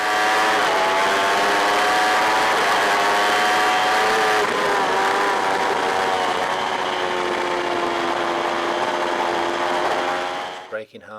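A motorcycle running a section of the Oulton Park circuit at normal pace, its engine holding a loud, steady high-revving note that bends slightly as speed shifts through the corner, continuous for about ten seconds before cutting away.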